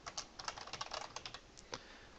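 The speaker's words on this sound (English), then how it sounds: "I can't think and type at the same time." Quick, uneven bursts of clicking keys come from a computer keyboard as someone types a list, the keystrokes close and crisp but quiet, with short pauses between runs and no speech.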